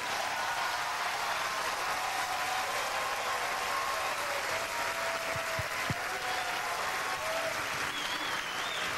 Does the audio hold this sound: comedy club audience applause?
yes